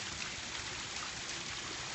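Ceramic water features in a pond and fountain showroom bubble and trickle steadily, a soft continuous splashing wash with no voices.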